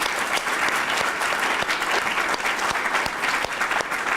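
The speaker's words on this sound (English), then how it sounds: "Give her a round of applause." Audience applause at an arts and economic prosperity presentation, a dense, steady clapping that fills the room for several seconds without anyone speaking.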